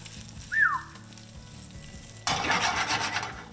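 Cooked blue crab sizzling hard in a hot pan as it is seasoned with salt and heated, a brief squeak early on, then a sudden loud burst of close frying hiss that carries on to the end.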